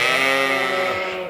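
Lambs bleating together on a working sheep farm, a dense, continuous chorus of overlapping high calls held at close range and fairly loud throughout.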